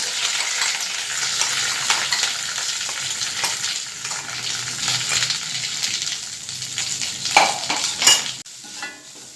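Grated coconut being stirred into a pan of jackfruit mash tempered with mustard seeds and curry leaves, soft scraping and gentle sizzling close up, with a few sharper clinks of the spoon near the end.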